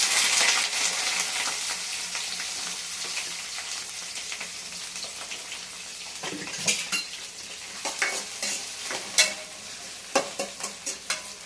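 Green chillies and onion fry in a pan of hot oil with tempering spices for mint rice. A steady sizzle runs throughout, and sharper clinks and scrapes of stirring come in more often toward the end. No one speaks.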